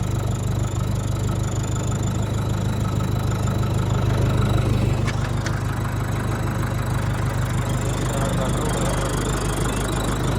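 A tractor engine idles close by with a steady, low, throbbing rumble that runs unbroken throughout, with a few faint clinks over it.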